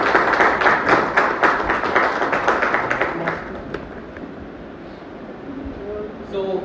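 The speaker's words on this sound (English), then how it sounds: "Let's welcome him with a round of applause." Applause from an audience welcoming the Toastmaster at a Toastmasters club meeting: dense, steady clapping for about three seconds that fades into quieter room noise, with a few scattered sounds near the end.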